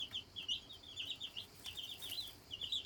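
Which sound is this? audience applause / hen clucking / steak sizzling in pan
hen clucking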